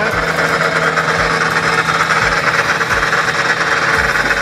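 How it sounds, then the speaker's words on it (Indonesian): A 1.5 HP supercharge blower running for biofloc tilapia pond aeration gives a loud, steady mechanical whine with a constant low hum and a broad airy rush, unbroken throughout. "ini kita mesinnya ini kita pakai super charge"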